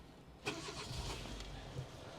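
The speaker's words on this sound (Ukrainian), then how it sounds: "Давайте запустимо двигун даного автомобіля" Dacia Sandero Stepway with a 1.6 8-valve petrol engine cranks and catches with a brief burst, then settles into a low, steady idle, heard up close and fairly faint.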